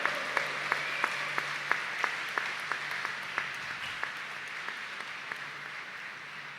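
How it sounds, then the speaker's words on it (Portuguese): A church congregation at a Sunday Mass gives sparse, evenly spaced claps, a faint, slow rhythm of single distinct hand claps in a large, echoing space that thins out over several seconds. "Merece um brado e uma salva de palmas, não?"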